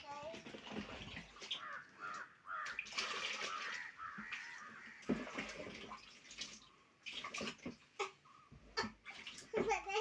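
Water is scooped and poured while a water tank is cleaned, giving repeated close splashes and sloshing pours under steady talking voices.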